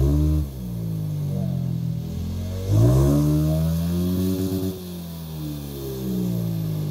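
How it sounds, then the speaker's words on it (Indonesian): A Honda Scoopy scooter on a budget sleeper build has its exhaust revved up and down several times, rising and falling in pitch over a steady idle, close and fairly loud. "Itu dia suara knalpot dari Scoopy ini."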